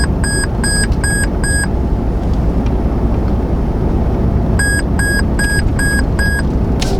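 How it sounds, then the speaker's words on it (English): A 2022 Toyota Tundra's lane departure warning sounds loud electronic beeps in two quick runs of five evenly spaced tones, separated by a pause, over steady road and cabin noise. "you have to touch it and that alarm goes off, and it's pretty loud"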